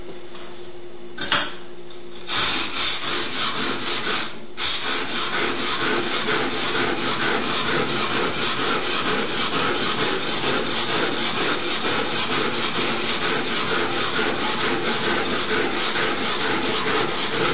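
A blade edge rubbed back and forth on an oiled bench stone while grinding the primary bevel, a steady rhythmic gritty scraping close by, with a couple of brief knocks early on.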